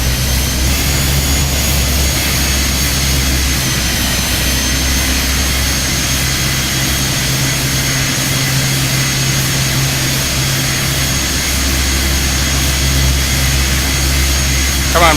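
Steady drone of ATR 72-500 turboprop engines during a climb in a flight simulator game, constant and loud throughout with low hum bands, while someone talks over it.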